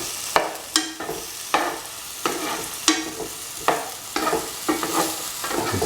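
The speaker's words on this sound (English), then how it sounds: "Keep on sauteing thoroughly." Cucumber pieces with cumin and turmeric sautéing in a pan, a soft continuous sizzle broken by regular scraping strokes of a spatula every half second or so, close and without talk.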